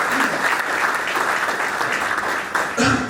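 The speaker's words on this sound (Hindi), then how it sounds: "एक बार मैं चाहूंगा आप जबरदस्त ताली बजाएंगे" An audience at an MLM business seminar applauds loudly in a dense, continuous burst of clapping that dips briefly before swelling again near the end.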